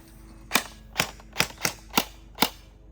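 Six sharp, snappy shots from an airsoft gun firing BBs, spaced roughly evenly about half a second apart, crisp and close with quiet gaps between.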